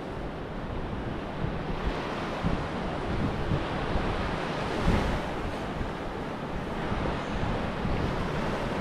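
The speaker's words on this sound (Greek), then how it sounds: "ο αέρας δεν έχει σταματήσει ακόμα" Wind blows steadily at the shore, mixed with the wash of surf, a continuous rushing noise with small gusts and no voices.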